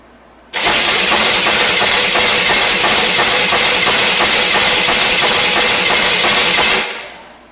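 A junkyard engine for a 1972 Corvette, mounted on a garage floor and missing its distributor rotor, cranks steadily with a rhythmic starter chug, loud and close, for several seconds without catching, then cuts off.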